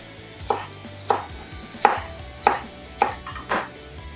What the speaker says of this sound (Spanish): Tenemos una cebollina, vamos a picarla.